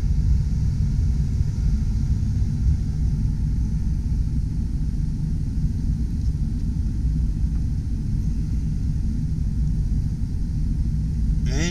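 A 1990 Ford E350 Four Winds motorhome idles with its heater blowing, a steady close rumble and airy whoosh running unbroken throughout.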